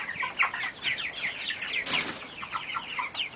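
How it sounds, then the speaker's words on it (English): Cornish Rock broiler chickens, a fast-growing breed, cluck and chatter softly around a farm, with a brief flutter of wings partway through. "these are the Cornish rocks, and it's a fast-growing broiler chicken"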